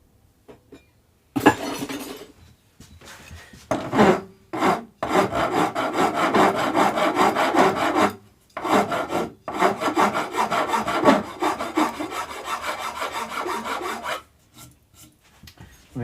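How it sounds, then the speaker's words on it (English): A finer file rasps steadily over the wooden body of a bass guitar under construction, close and loud, running in long rhythmic back-and-forth bursts broken by short pauses. "I need a slightly finer file."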